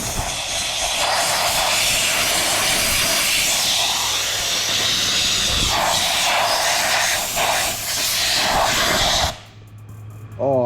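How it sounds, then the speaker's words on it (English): Compressed air blasts out of a Ford's fuel filler neck with a loud, continuous roaring hiss that holds for about nine seconds before cutting off abruptly. "So compressed air."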